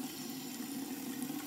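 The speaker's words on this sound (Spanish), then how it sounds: "Let's turn on the agua." Water runs from a tap into a sink as a steady, close hiss that stays even and unbroken throughout.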